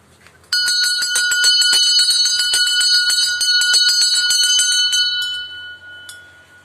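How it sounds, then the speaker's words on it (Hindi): A metal temple bell at a Shiva temple rung rapidly and repeatedly, bright ringing tones overlapping, then left to resonate and fade for a moment. "काना घंटी बजे दियो"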